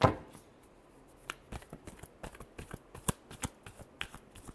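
Tarot cards are shuffled by hand during a reading: a sharp opening riffle, then a steady run of soft, quick card snaps and taps, close and fairly quiet, with no talking.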